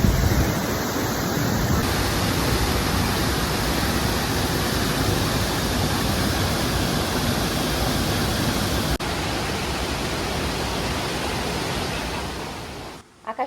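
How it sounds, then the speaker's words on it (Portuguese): A powerful waterfall in Chiang Mai, Thailand, roars steadily, a dense wall of rushing water that stays loud and unbroken throughout. "A cachoeira realmente, gente, era muito forte"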